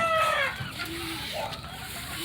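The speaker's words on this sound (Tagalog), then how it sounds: "Dami dyan. Mga manok." Chickens cluck and cackle close by, one higher call at the start followed by softer clucking against farmyard background noise.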